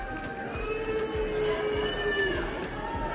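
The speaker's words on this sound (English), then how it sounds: "Oh, someone's booing." A drawn-out, slightly falling boo rises from one voice in a live-show audience for Miranda Sings, over steady crowd murmur and scattered noise.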